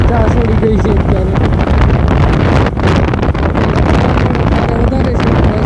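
Strong wind blowing outdoors near Bhavnath Mahadev in Junagadh, a loud, steady buffeting roar across the microphone that fills the whole stretch without a break.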